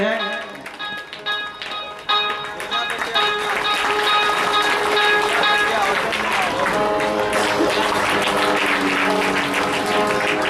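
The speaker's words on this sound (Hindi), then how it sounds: "सभी जोरदार ताली होनी चाहिए" Audience applause at a devotional stage event in Gorakhpur: loud, steady clapping that builds after a few seconds and continues under sustained musical tones, with a voice speaking over it.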